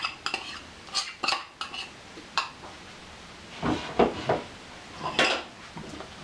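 A spoon stirs batter into a butter mixture in a bowl, giving irregular scraping clinks and knocks against the sides, close and fairly quiet.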